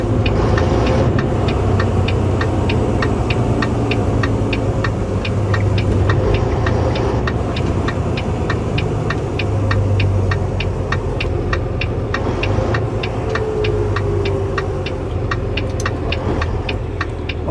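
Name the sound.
RV hauler truck engine with engine brake on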